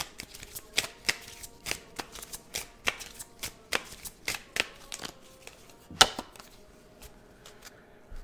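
Ask the Oracle oracle cards from Rising Sun Oracle being shuffled by hand, a steady run of crisp papery riffles and slaps repeating about twice a second, close and fairly quiet, with one sharper snap near the end and no talking.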